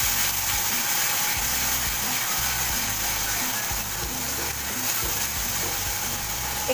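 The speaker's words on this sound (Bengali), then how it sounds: "পেঁয়াজ বাটাটা দিয়ে তেলে ভালো করে এটাকে নাড়তে হবে।" Onion paste frying in hot oil while being stirred, a steady loud sizzle with scraping, rattling stirring strokes repeating in a rough rhythm underneath, close up and without speech.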